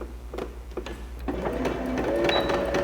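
A sewing machine back stitching a seam on a garment bag, running in short bursts with faint ticking at first, then settling into a steadier, louder hum close by.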